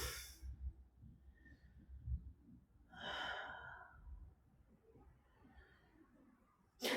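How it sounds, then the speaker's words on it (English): Slow, deep breaths are drawn in and released during a yoga child's pose, audible as soft, airy inhales and exhales spaced a few seconds apart in an otherwise quiet room. "Let's take a few rounds of breath"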